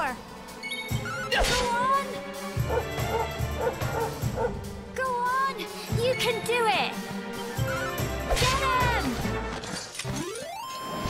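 A dog in the room barks and yips in sharp bursts, mixed with loud game music and clattering effects from Dragon Quest XI S on a Nintendo Switch.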